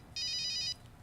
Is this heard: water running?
no